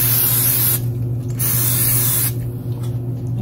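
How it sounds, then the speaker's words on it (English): Great Value spray butter is sprayed from a can in two hissing bursts, close and loud, with a low kitchen hum underneath. "I got this spray, Great Value spray butter."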